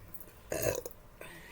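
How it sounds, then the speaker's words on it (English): A single short, close burp rises out of a quiet room and fades within a moment, followed by a faint trailing sound. "I burped through that, so sorry."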